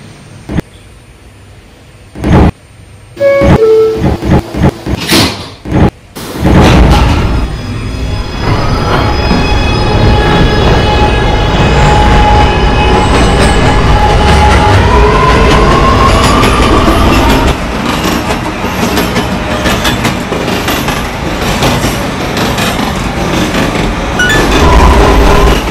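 An R211A subway train in Transit City 3 departs a station, its motor rising into a loud, steady rumble of wheels and running noise after a few sharp door-closing thumps.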